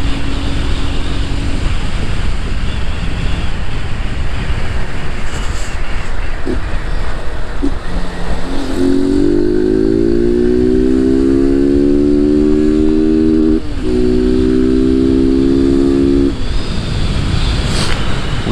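A Honda Fan 160 motorcycle in motion, with constant wind rush and road noise. Midway, a clear engine whine climbs steadily in pitch as the bike accelerates, drops briefly, then rises again.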